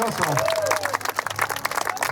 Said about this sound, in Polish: wielkie brawa dla aktorów, dla naszych pań, dla dziewcząt, dla najmłodszych, dla rycerzy, dla konnych